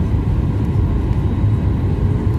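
Steady, loud low-frequency roar of an airliner's engines inside the cabin as the plane descends to land at Milan Airport, a continuous drone with no talk.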